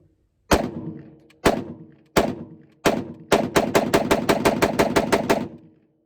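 Shots from a scoped rifle on a partly filled magazine, starting as four loud, spaced single cracks, then a fast burst of about ten more in quick succession, each with a short ringing decay.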